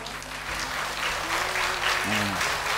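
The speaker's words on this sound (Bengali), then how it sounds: "আরেকবার দিন না হাততালি" Audience applause after a dance performance on a televised talent show stage, steady sustained clapping from a crowd throughout, with some background music tones underneath.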